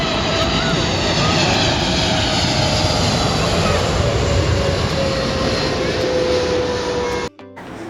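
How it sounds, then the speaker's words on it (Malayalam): A steady, loud airplane engine roar drones throughout, broad and continuous, with a faint tonal whine running under it before it cuts off abruptly near the end. "അപ്പൊ ദൂരെ നിന്ന് ഒരു ഫ്ലൈറ്റും വന്നിട്ടുണ്ട്"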